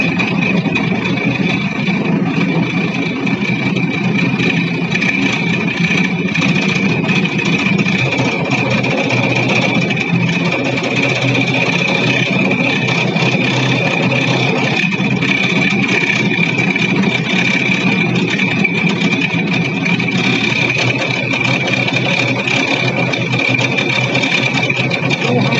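A spinning gyroscope rotor turning at 2200 rpm in a lab experiment makes a steady, loud mechanical whir with a constant high tone over a low rumble, unbroken for the full length and with no talk.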